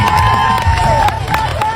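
Crowd at a Thai political rally in Kalasin applauding and cheering for a bride and groom in the audience, a dense steady wash of clapping and voices with a whistle-like tone running through it.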